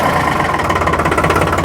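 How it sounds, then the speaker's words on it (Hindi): A New Holland 3630 Super Plus tractor diesel engine fitted with a new silencer, chugging steadily at a low, even idle, loud and close, with no voices. "मैं आपको स्टार्ट करके इसकी आवाज़ सुनवाऊंगा"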